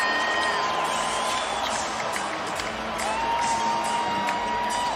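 Basketball arena crowd on its feet in the final minute of a close NBA game, a loud sustained roar of cheering and whoops filling the space with no letup, scattered shouts rising above the wash.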